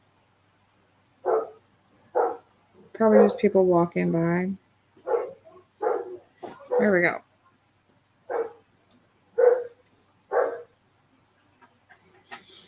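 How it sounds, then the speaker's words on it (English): A female dog barks repeatedly indoors in short, separate bursts spread over several seconds, with a person talking between the barks. "what's she barking at?"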